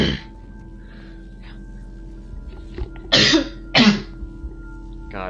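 Two loud, close coughs from a man, with a few fainter throat sounds around them, breaking up an otherwise quiet stretch with no speech.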